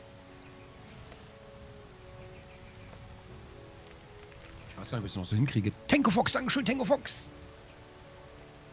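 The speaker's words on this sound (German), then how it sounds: "Bei uns regnet's rein." Steady rain patters in the Starbound video game, a soft continuous hiss running through the whole stretch while a voice speaks and sings over it in the latter half.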